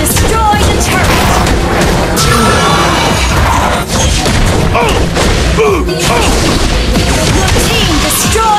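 Loud, dense game combat in Mobile Legends as a turret is destroyed, with crashing impacts and booms layered over busy effects and music, continuous and heavily packed throughout.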